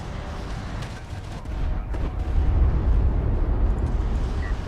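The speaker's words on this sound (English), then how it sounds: "That is one hardy probe if it can survive a missile from a strike fighter." A missile from a strike fighter hits a probe in a real-time strategy game, a low rumbling explosion that swells and holds through the clip, loud and dense with no talk over it.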